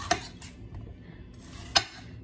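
A manual veggie chopper cuts onions in a kitchen with two sharp plastic clacks about a second and a half apart and softer rattles between them, close and alone.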